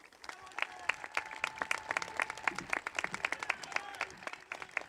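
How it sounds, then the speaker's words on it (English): A commencement ceremony crowd claps for 4.0 GPA graduates, dense and lively applause with sharp individual claps standing out, a few cheers rising above it, fairly loud throughout. "If we could have one more round of applause"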